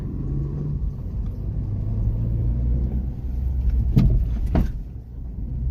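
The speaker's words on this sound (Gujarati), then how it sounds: "સ્પીડ બ્રેકર ઉપર સસ્પેન્શન માટે જોઈ લઈએ." A 2016 Hyundai Creta 1.6 E+ petrol SUV rolling over a speed breaker, a steady low cabin rumble of the road broken by two short thumps from the suspension near the end, with no talk.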